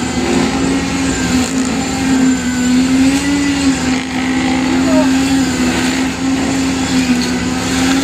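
A concrete vibrator runs at a riverside construction site on the Pasig River esplanade, a loud, continuous motor drone with a steady hum, while a voice talks faintly underneath.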